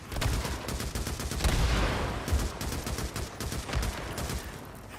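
Rapid gunfire from a weapon in the zombie-survival video game Days Gone, a dense, loud barrage of overlapping shots filling the whole stretch.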